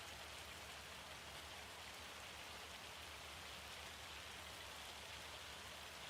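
Rain falling in a farming video game, a steady dense hiss of drops with no breaks or variation, soft and even throughout.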